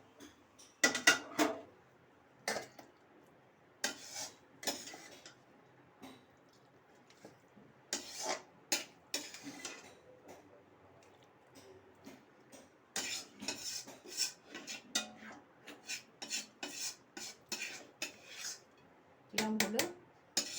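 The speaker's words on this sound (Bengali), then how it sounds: "এবার আমি ঢেলে দেবো।" Cooked shrimp and pumpkin-leaf dish being poured and scraped out of a pan, with faint irregular clinks and scrapes of utensil against metal, quiet and scattered.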